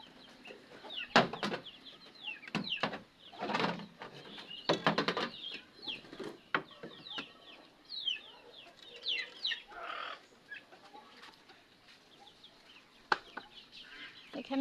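Hens and chicks in a rooftop coop cluck and cheep in scattered bursts, with occasional wing flapping and rustling, close by and fairly faint overall.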